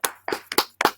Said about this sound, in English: That's a slow clap.